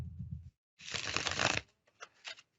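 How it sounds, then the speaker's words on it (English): A deck of tarot cards is shuffled up close, giving a dense riffling rush that lasts just under a second, followed by a few softer card flicks and taps. "Let's shuffle them once more."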